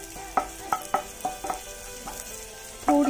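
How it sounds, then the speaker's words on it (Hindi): Cumin, mustard seeds and chopped curry leaves hit hot oil for a sprout salad tempering, giving a steady sizzle broken by repeated crackling pops and a louder burst near the end, with no talking. "जीरा डाल देते हैं, थोड़ी सी राई के दाने डाल देते हैं और ये कटे हुए हम करी पत्ते डाल देते हैं।"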